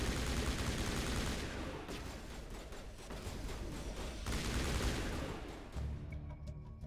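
Dense gunfire fills the Mass Effect firefight, with rapid overlapping shots and bursts that stay loud and continuous before thinning out near the end.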